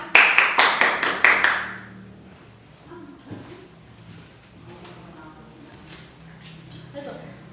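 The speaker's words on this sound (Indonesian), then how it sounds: "terima kasih anak-anak, tepuk tangan" Schoolchildren in a fourth-grade classroom clap hands in a quick rhythmic pattern of about ten sharp, loud claps, followed by quieter room noise and faint voices.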